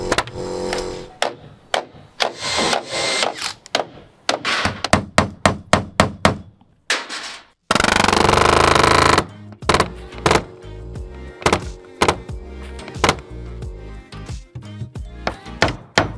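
Pneumatic palm nailer driving nails into timber on a job site, bursts of rapid sharp hammering clatter, close and loud, separated by pauses and one sustained hiss of air.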